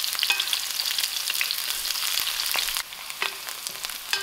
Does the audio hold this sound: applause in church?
no